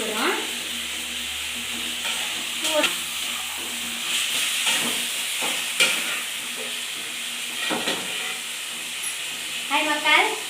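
Chicken with curry leaves sizzles steadily as it is sautéed in a pan, a loud close hiss broken by scraping stirs, with a voice speaking faintly at times.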